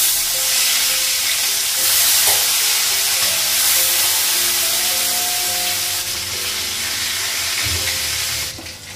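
Fish sizzles hard in a hot pan, a loud close crackling hiss that continues throughout with faint clinks, tapering off in the last moment.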